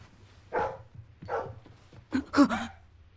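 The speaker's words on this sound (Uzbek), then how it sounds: "Daydi kuchuk." A stray puppy making three short, soft bark-whimpers spaced about a second apart, the last a slightly louder double yip, close by in a quiet room.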